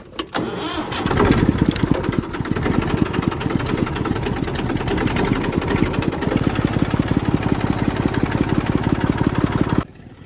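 A tractor engine starts and runs with a steady, loud mid-pitched chugging rhythm for several seconds before cutting off abruptly, no talk over it.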